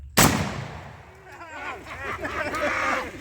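A single sharp, loud gunshot cracks close by near the start, followed by excited voices talking and exclaiming.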